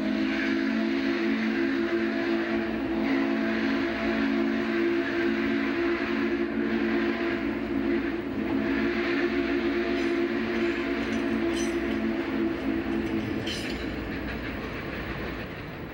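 An A&WP 290 steam train departs along the Norfolk Southern main line toward Macon near Atlanta, a loud continuous rumble and clatter of rolling stock passing close, steady throughout and easing slightly at the end.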